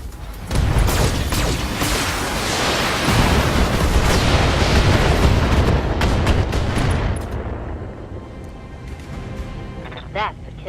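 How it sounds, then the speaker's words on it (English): Ammo explosion on a destroyed mech in the Battletech video game, a loud rumbling blast with crackling gunfire-like bursts that fills most of the clip before tapering off, with a voice talking over it. "assuming they died in the ammo explosion"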